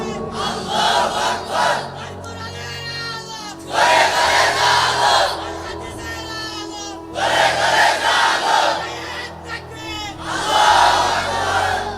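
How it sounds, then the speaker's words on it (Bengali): A large crowd at an Islamic sermon shouts takbir in unison, loud roaring waves of voices rising and falling in about four repeated bursts, with quieter murmuring between them. "ভাইজান তাকবীর দেন একটা, তাকবীর দেন একটা"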